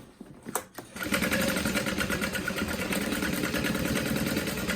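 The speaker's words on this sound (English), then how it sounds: "I like to add a little back stitch at these snap tabs." A sewing machine back-stitches through vinyl at the snap tabs of a Swoon Charlotte City Tote, starting after a couple of soft clicks and then running in a steady, close, continuous mechanical whir.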